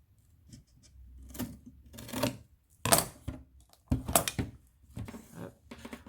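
Scissors snip through advent calendar material in a handful of separate close cuts, crisp bursts with papery rustling between them.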